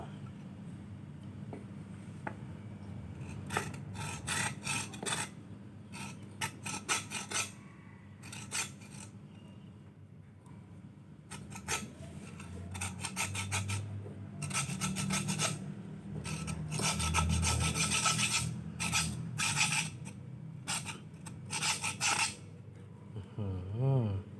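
A saw rasps through the hard body of a Kuman Thong figure in repeated bursts of back-and-forth strokes, close and dry, with short pauses between the sawing runs.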